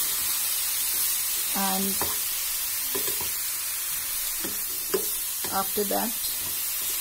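Carrot dish stirred in a hot pan, with a steady, even sizzle running underneath throughout while a person speaks briefly over it.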